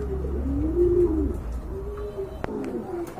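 Pigeons coo in low, rolling, drawn-out calls, close by, with a brief sharp click partway through.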